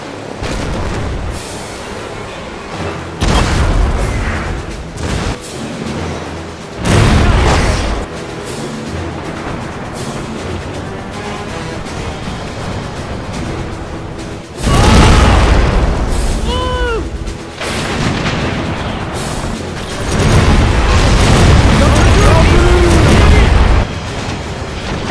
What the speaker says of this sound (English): The ships and Eaton's artillery then began to fire their salvos in order to weaken the city's